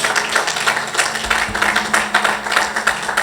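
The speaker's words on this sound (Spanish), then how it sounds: "Vamos a darle un aplauso al Señor" A church congregation claps in praise, a busy wash of hands with rhythmic surges, while a low steady hum runs underneath and no one speaks.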